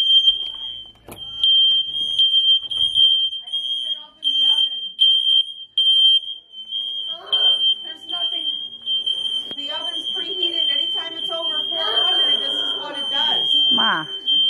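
A sensitive smoke detector in a hospital shrills as a steady, piercing high tone that runs continuously throughout, loud and near, while people talk over it in the second half.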